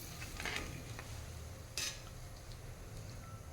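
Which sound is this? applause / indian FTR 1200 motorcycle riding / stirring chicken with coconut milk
stirring chicken with coconut milk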